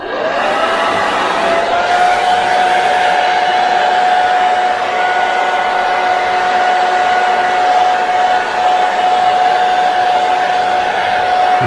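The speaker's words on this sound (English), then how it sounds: "this hairdryer gets on the hottest setting" A hair dryer on its hottest setting blows steadily and loudly at close range while drying tape, its motor whine holding a constant pitch after a brief spin-up.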